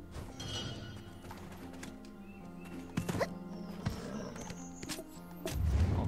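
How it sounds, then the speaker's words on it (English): A horse's hooves clip-clopping in the video game Black Desert Online, light rhythmic taps and thuds over a steady background of game music. "I pull out my horse."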